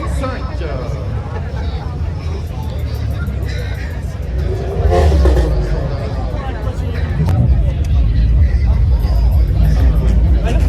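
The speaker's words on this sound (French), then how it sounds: "Donc on a plein de voitures. Voilà, on les entend, hein. On entend les rupteurs." Many cars at a decibel contest during a big car meet in eastern France rev hard against their rev limiters, a loud continuous roar and stutter of engines close by, with people talking over the din.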